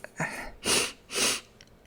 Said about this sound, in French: Alors, je renifle un peu, hein, pardonnez-moi.